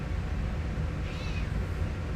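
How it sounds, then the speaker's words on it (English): A single short meow from a cat rises and falls over a constant low background hum. "She's a cat."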